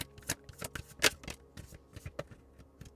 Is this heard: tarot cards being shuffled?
yes